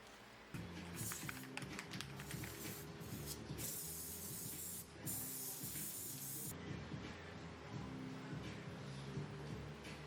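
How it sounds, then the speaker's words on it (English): Bursts of aerosol spray adhesive hiss over a steady mechanical hum, loud and close, with brief pauses between the long sprays. "So I applied some spray adhesive"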